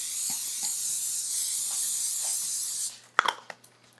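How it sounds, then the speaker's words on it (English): Cooking spray hisses into a 9x13 metal baking pan in one steady, close, continuous spray lasting about three seconds, followed by a few light clicks and taps of the can and pan. "I'm gonna spray it quick."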